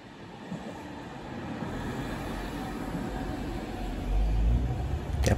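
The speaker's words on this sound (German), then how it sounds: "der Regio-Swinger schnauft ganz schön" A Regio-Swinger diesel train labours uphill near the summit of the line between Zella-Mehlis and Oberhof, its low engine rumble and rolling clatter steadily growing louder as it approaches, with no talk.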